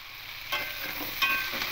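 Sliced ridge gourd and potato with turmeric and salt give a soft, close sizzle in a pan for under two seconds, with a couple of brief scraping touches and no voices.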